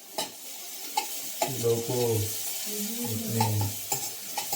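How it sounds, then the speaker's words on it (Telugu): Maggi noodles cook in a pan with a low sizzle. Scraping stirs and light clinks of a utensil break it up, and someone talks briefly nearby. "మ్యాగీ కూడా ఆల్మోస్ట్ బాయిల్ అయిపోయింది."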